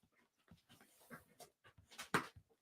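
A dog pants in a room, quick breathy huffs and snuffles in an uneven rhythm, close but soft, with a louder burst near the end.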